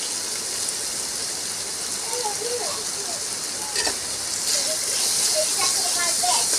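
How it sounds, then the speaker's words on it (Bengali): Spice paste with turmeric, salt, sugar and a splash of water fries in a pan for a potato and pointed gourd curry, a steady close hiss and sizzle with faint scraping stirs; talk is heard briefly. "মশলাটা কষানো হচ্ছে"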